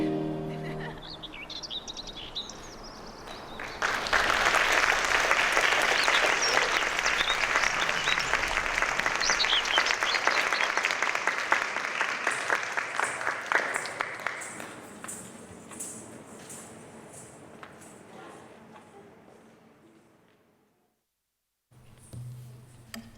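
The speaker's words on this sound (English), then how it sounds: "Let's give another round of applause for Meera for a great job tonight." After a song at a stage performance, an audience bursts into applause a few seconds in, with a few sharp whistles. The clapping swells, then gradually thins and fades to near silence before a brief sound at the end.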